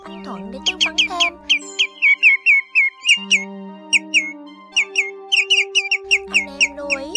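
Shorebird calls of greenshank and grey-headed sandpiper come as clustered bursts of bright, piercing whistles, repeating in uneven runs over a steady low drone.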